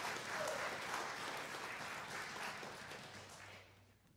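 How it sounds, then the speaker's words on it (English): Audience applause at a university jazz ensemble concert, a dense burst of clapping that stays full for a few seconds, then gradually thins and fades out. "let's give him a round of applause."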